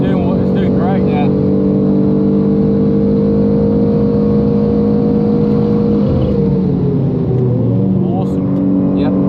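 BMW M2 on the Nürburgring with aero upgrades, its engine droning loud and steady from start to finish, pitch shifting slightly as the car changes speed mid-lap.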